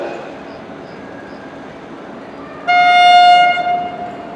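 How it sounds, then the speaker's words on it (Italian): A regional train from Terni to Roma pulls in at a station platform, its loud horn or whistle sounding for about a second amid steady rumbling station noise. "Il treno regionale proveniente da Terni e diretto a Roma Terni delle ore 16:31 è in arrivo al binario 7."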